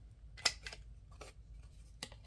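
Scissors snip through paper to round the corners of junk-journal tags, a few quiet, close, crisp cuts spaced irregularly.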